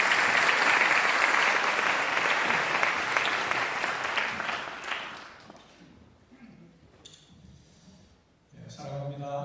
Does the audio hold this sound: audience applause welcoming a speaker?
yes